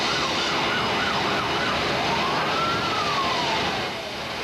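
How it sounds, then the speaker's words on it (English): Fire engine sirens wail continuously as trucks respond to a blazing McCrory store at a shopping center, loud rising and falling tones over a constant roar of engines and street noise. "fire engines with sirens screaming were still responding"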